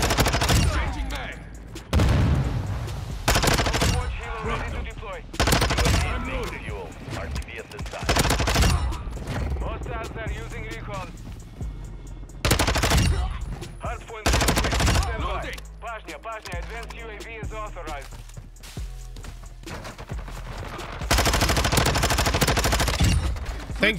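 Rapid bursts of Vaznev 9K fire in Modern Warfare 2, repeated across the stretch with pauses between volleys. Game voice lines and a player talking come in between the shots.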